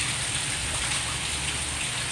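Heavy rain pours steadily on and around a house, a dense, constant hiss of close rainfall with no breaks and no voices.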